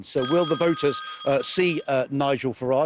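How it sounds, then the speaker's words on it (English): A mobile phone rings with steady high electronic tones running beneath a news presenter's continuous talk throughout. "That's my phone."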